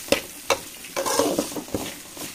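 Rock salt being stirred into rice in a hot pan for spicy egg rice: a few crisp spoon knocks against the pan over a soft sizzle, then a quick run of scraping stirs, close and alone.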